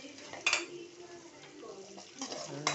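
A spoon stirs onions and curry leaves with turmeric in a pan, making soft scraping and a few sharp metallic clinks over a faint sizzle, with quiet speech around it.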